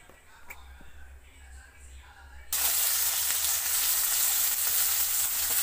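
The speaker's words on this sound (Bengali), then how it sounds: "মাছটা দিয়ে দিয়েছি, মাছটা ততক্ষণ ভাজা হতে থাক" Silver carp hitting hot mustard oil in a kadai: after a quiet stretch with faint background noise, a loud, dense sizzle bursts in suddenly and holds steady to the end.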